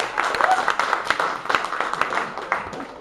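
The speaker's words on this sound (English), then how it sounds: "Round of applause." Comedy club audience at an open mic night applauding, a steady wash of clapping with scattered sharper claps, fairly close and filling the room throughout.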